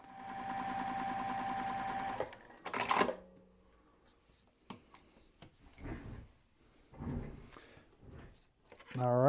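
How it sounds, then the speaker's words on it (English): A sewing machine stitches quilt squares for a Churn Dash block with folded corners, running steadily for about two seconds before stopping. Scattered clicks from handling the fabric follow, with a voice speaking briefly near the end. "So give me a second while I sew that."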